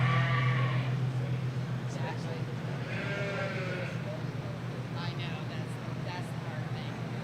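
Sheep bleating at a youth breeding sheep show ring, a few faint wavering bleats over a steady crowd and hall murmur with voices talking in the background.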